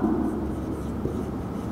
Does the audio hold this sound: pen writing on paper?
yes